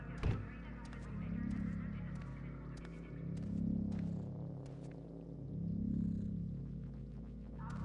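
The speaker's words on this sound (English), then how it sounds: "There's a cat." A cat purrs in a video game, a low rumbling purr swelling and fading in slow waves with soft ticking game sounds above, while a person talks over it.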